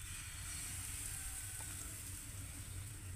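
White batter sizzling on a hot tawa while making patishapta, a soft, steady frying hiss with a low hum beneath, faint and continuous with no talk.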